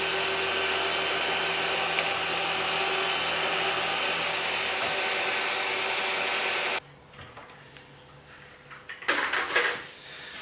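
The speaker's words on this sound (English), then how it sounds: "So now I will drill the holes for the dowels." A power drill boring dowel holes in wood for a lamp, a steady whining motor drone held for several seconds, then stopping, followed by handling clatter and a brief second burst.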